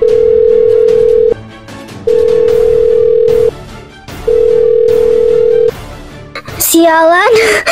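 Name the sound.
telephone call ringing, dial tone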